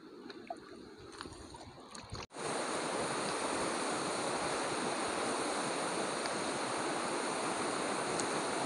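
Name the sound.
fast-flowing river water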